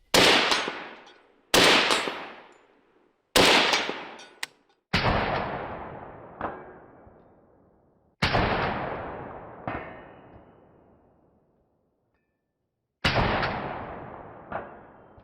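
Six sharp shots from an AR-style rifle ring out at irregular intervals, each followed by a long decaying echo, with fainter metallic impact cracks on a steel plate target trailing several of them.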